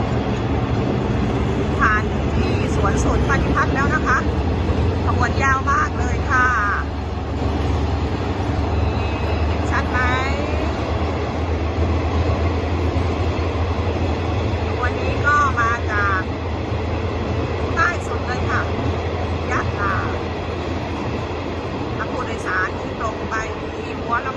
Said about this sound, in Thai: ตอนนี้ขบวนรถไฟเข้า